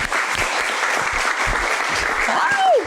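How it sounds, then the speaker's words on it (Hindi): A talk-show studio audience gives loud, continuous, close applause to welcome a guest, with a voice faintly audible under the clapping. "So please आप लोगों ने बहुत ज़्यादा तालियों के साथ welcome करना है अनुशे अब्बासी का."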